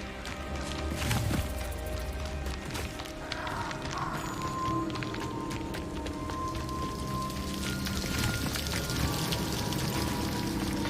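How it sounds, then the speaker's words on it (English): Waterfall in the video game Hogwarts Legacy, a dense continuous rushing of falling water that stays steady and fairly loud throughout, with scattered splashy patter on top. "The waterfall."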